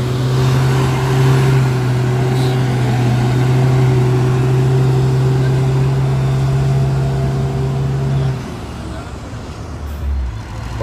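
Heavy Hino truck engine with a loud, steady low drone climbing Bukit Kodok hill, the drone dropping away near the end as other traffic rumbles on.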